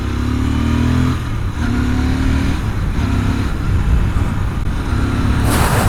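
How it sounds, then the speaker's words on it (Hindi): A Royal Enfield GT650 motorcycle engine on E20 petrol runs close by as its fuel runs out, its rumble repeatedly stuttering and dropping out in uneven misfires, with a revving surge at the end. "अपनी बाइक ने पहली मिसिंग मारना स्टार्ट की है।"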